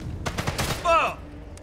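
Gunfire in the video game Sniper Elite 5, a short burst of shots with a brief crack and ringing tail, heard alone and fairly close.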